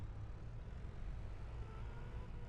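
A tractor engine in Farming Simulator 25 drones low and steady, revving under heavy throttle with a constant rumbling hum and no voices over it.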